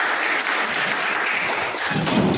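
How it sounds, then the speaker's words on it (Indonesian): Classroom applause for a student named Evin, a steady patter of clapping hands lasting a couple of seconds, fairly close and continuous. "give applause for Evin"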